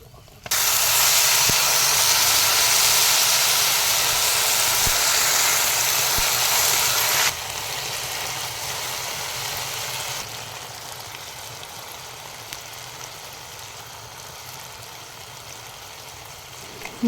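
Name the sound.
frying jujube (kul) for pickle in a pan, water added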